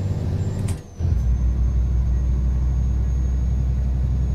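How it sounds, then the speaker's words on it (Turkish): A truck engine in Euro Truck Simulator 2 after a downshift, with the gas floored: a heavy, steady low rumble that cuts out for a moment, then returns louder and keeps droning on. "Bak gazı nasıl köklüyorum ha"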